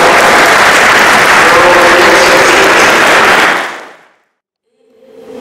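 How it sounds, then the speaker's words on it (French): Loud, dense clapping from a congregation at a prayer gathering, roaring steadily for about three and a half seconds before fading to silence, then a voice begins speaking. "je crois qu'on peut l'applaudir"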